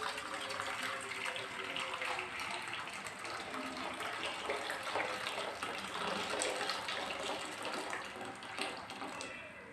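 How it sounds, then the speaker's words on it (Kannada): A steady, full gush of hot water is poured into a cooking pot on a stove for boiling lentils, loud and continuous throughout. "ಬಿಸಿ ನೀರು ಹುಯ್ತಾ ಇದ್ದೀನಿ ನಾನು"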